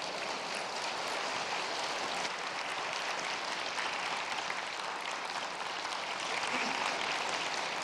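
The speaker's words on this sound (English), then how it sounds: "Please welcome her with a big round of applause." Broad, steady clapping from a crowd at the 2014 ASEAN-Republic of Korea Commemorative Summit fills the whole stretch, a dense wash of applause that never breaks or fades.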